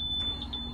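A bus's low air pressure warning alarm sounds during a brake check as air is pumped down to about 60 PSI, a steady, piercing high beep held continuously over low engine rumble.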